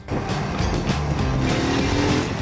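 Steady engine note of a BSA Goldstar motorcycle on small back-country roads near Malaga, a continuous loud running drone holding throughout with slight pitch shifts.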